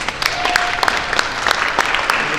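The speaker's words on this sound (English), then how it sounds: "One more round of applause." Applause from a conference audience at the close of a day-long session, a dense steady patter of many hands clapping throughout, fairly loud and close.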